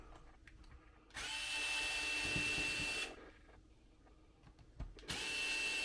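A power screwdriver whines in two steady bursts of about two seconds each, backing out gear cover screws on a Tamiya King Cab RC truck, close up, with quiet handling clicks between.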